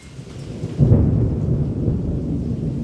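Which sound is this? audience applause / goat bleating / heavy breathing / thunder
thunder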